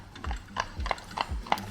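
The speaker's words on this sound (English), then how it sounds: "just where that horse and carriage has gone" A horse pulling a carriage clip-clops along a park path at Killarney, with steady rhythmic hoofbeats at an even walking pace, fairly close and clear, with faint rattling from the carriage.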